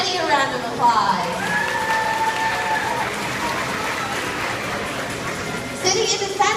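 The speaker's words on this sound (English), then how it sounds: "let's give Jetty a round of applause" Audience at a marine theater sea lion show breaking into applause, a broad wash of clapping and crowd noise beneath an amplified presenter's voice and children's chatter.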